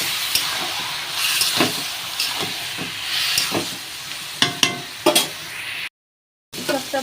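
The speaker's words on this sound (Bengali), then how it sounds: "দিয়ে আমি আবার এটাকে নাড়াচাড়া করব" Taro leaves with turmeric stirred in a hot pan, continuous hissing sizzle broken by repeated scraping spatula strokes and a few sharp clanks near the end, close and without talk.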